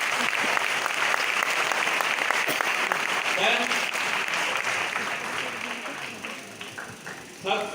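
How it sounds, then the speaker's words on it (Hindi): An audience breaks into sustained applause, a dense, loud wash of many hands clapping that gradually thins and fades toward the end. "तो ऐसे हमारे सुरजीत सर के लिए एक बार जोरदार ताली होना चाहिए।"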